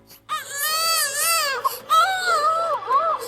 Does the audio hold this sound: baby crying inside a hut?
yes